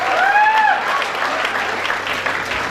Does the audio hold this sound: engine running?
no